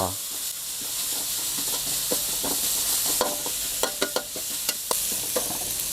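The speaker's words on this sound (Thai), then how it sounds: "นำพริกแกงที่เราตำไว้นะครับ ลงไปผัดให้หอมก่อนเลย" Pounded curry paste stir-fried in a pan over medium-low heat, a constant sizzle and hiss broken by scattered scrapes and clicks of a spatula, no voices.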